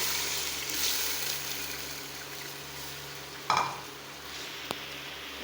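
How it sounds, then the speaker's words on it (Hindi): Whole spices and boiled beef added to a pot of hot oil for Kabuli pulao, a quiet steady sizzle with a brief louder splash and clatter midway and a sharp click near the end, no voices. "अब मैं इसमें ये साबुत मसाला डालूंगी और ये बॉईल किया हुआ गोश्त डालेंगे।"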